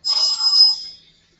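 An electronic telephone ringtone for an incoming call trills close and clear for about a second, then cuts off, with no talk over it.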